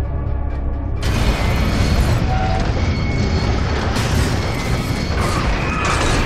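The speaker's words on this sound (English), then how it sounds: "Bridge is connected!" Bridge mechanism locking into place in Gears of War 2, a loud sustained mechanical crash and grinding roar that starts abruptly and rumbles on amid battle noise.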